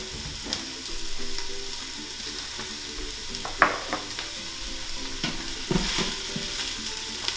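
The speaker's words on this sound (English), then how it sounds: "we are going to now saute our onions and our garlic" Onions and garlic sautéing in an Instant Pot liner, a steady soft sizzle with occasional scraping stirs and light clinks, heard close with no talking.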